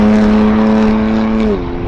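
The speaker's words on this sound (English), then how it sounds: "She sounds pretty good too, but that's partly down to the fact that this car's not exactly stock" A modified BMW M4 engine drones with a strong steady tone that drops in pitch as the car passes by, loud and close, then fades into rumbling road noise.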